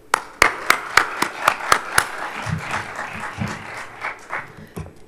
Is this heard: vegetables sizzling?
no